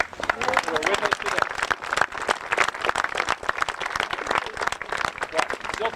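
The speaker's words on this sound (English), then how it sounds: "I want to give a big round of applause to the people who have ridden the railway" Audience applause rings out at the rededication of the Inspiration Point Shelter, honoring people who rode the railway, a steady patter of clapping hands throughout, mixed with a few voices.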